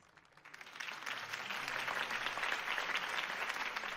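Applause from a crowd at a campaign rally for Harvey Dent in Batman: The Telltale Series, starting softly, then swelling into steady, dense clapping that holds at moderate level to the end.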